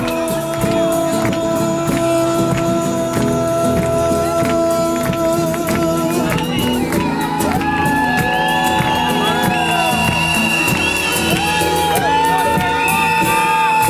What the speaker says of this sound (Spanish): fuerte aplauso para Fernanda.